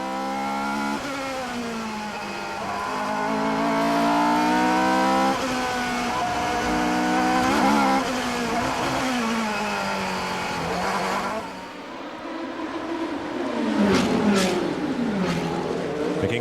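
Onboard engine of a 2002 Formula 3000 race car at Monaco, loud and close, rising and falling in pitch through rapid upshifts and downshifts as it accelerates and brakes around the street circuit, without talk.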